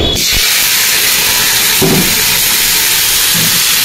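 Cumin seeds and a bay leaf sizzle in hot mustard oil, giving a loud, steady frying hiss close by, broken by a few soft thumps and pops.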